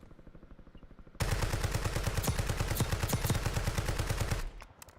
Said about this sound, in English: He just got sniped by somebody else.